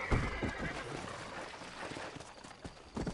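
Horse in the video game Red Dead Redemption whinnies in a loud, shaky neigh near the start, followed by hooves clip-clopping at a steady gait beneath a low rumble of game ambience.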